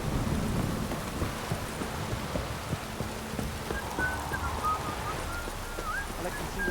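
Steady rain downpour with low rolling thunder in the video game The Witcher 3, a continuous dense wash of rain under faint distant rumbles, with no talking.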